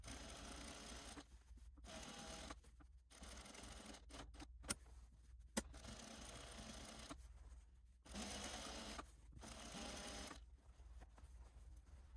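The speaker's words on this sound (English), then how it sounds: "I'm going to top stitch 1/16 of an inch just inside the band all the way around the perimeter of the band at the hem" A sewing machine runs in steady bursts while top stitching a band around a garment hem, its fast even whir broken by short pauses and a couple of sharp clicks.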